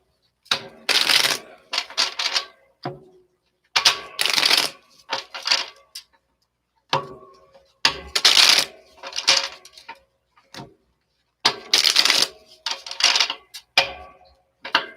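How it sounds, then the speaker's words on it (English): Tarot cards are shuffled in repeated quick riffling bursts, close up, with short pauses between each shuffle and no talking. "It's painful watching me shuffle here"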